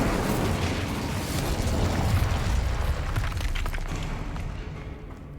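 An Incendio fire spell is cast in Hogwarts Legacy, giving a loud, sustained roaring burst of flame that stays dense and rumbling for several seconds before slowly thinning out, with no voices over it.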